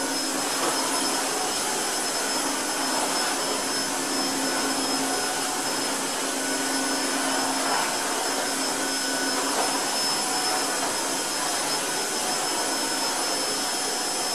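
A Tineco iFloor 3 wet vacuum cleaner runs with a steady, even whine and airflow hiss at close range, holding constant throughout with no voices.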